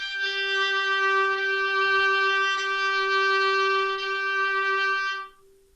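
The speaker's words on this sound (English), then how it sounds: "or you can pull it fast." A bowed string instrument is drawn with a fast bow, holding one steady, rich note for about five seconds before it cuts off, close and alone.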